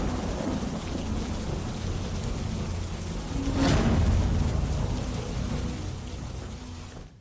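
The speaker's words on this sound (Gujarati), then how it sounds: "ભારે ગાજવીજ અને તેજ પવન સાથે માવઠું થયું" Thunderstorm with heavy unseasonal rain, a steady dense downpour throughout with one rumbling thunder crack swelling midway, loud and enveloping.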